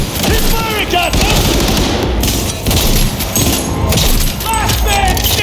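Cyberpunk 2077 combat gunfire, with rapid automatic bursts and heavy shots layered thickly over one another, loud and continuous, while characters shout over the fight.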